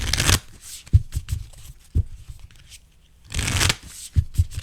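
A Moonology Oracle card deck is shuffled close up in brisk riffling bursts separated by soft taps and pauses.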